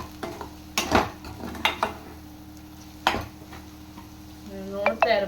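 Okra (ladies finger) with salt frying in a pan, a soft steady sizzle beneath several sharp scraping stirs and clinks of a spoon against the metal, close and moderately loud.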